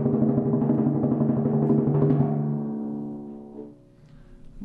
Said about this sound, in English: if you're rolling on a D natural on the 26-inch drum,